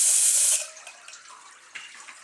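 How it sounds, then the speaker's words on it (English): Water blasted out of a paint spray gun with compressed air: a loud hissing spray for about half a second, then fading to faint splashes and drips with a small knock near the end. "don't wash the gun out, we just blow it out until it doesn't shoot"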